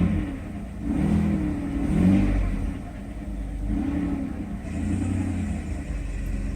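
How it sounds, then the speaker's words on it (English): A Mercedes S600's secondary air pump runs during a cold start, a steady mid-low droning whir with a wavering pulse sitting over the idling engine, close and fairly loud throughout with no talking. "You hear that noise? That's air pump."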